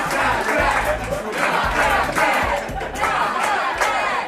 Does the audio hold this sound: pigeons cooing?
no